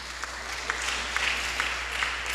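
A church congregation breaks into steady applause, a dense, even wash of many hands clapping at moderate loudness with no voices over it.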